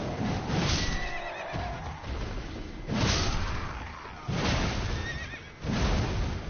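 Repeated horse neighs and whinnies from a video game, several loud bursts roughly every second or two with thudding hoofbeats and clatter between them, no talking.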